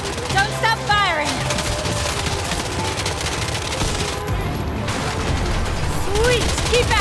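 Rapid, sustained gunfire rattles steadily in a video game as shots are aimed at a vehicle's tires, dense and loud throughout, with voices and other game sounds mixed in.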